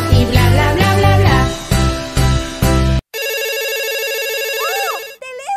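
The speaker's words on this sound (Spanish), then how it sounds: "¡Oh, teléfono!" A telephone rings with a loud, steady electronic ringtone that starts right after a stretch of music and carries on alone.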